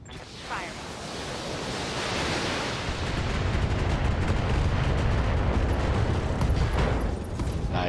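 Mech weapons firing during a Battletech battle, heard as a dense, roaring wall of blasts and explosions that swells and stays loud for several seconds with heavy low rumble, with faint voice in the mix.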